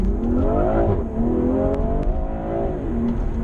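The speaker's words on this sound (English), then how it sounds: "We'll do another full throttle pull." A BMW M340i accelerates at full throttle, its engine note climbing in pitch through two gear changes. The sound is close and loud inside the car, with no talk.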